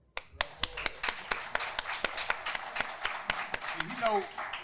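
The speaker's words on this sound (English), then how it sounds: "So give him a round of applause for that" Scattered handclaps from a small audience at a Juneteenth gathering, a few sharp distinct claps spaced irregularly under a low murmur of voices, with a brief voice near the end.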